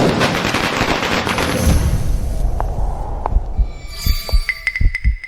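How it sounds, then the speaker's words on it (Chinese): A loud crackling burst gives way to scattered sharp bangs and pops, each one ringing out briefly before the next. "我放个鞭炮"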